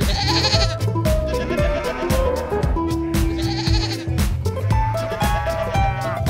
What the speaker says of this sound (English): Next, the goats are arriving.